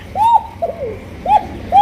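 An Indonesian pigeon coos up close, giving three or four short, rising-and-falling hooting calls in quick succession.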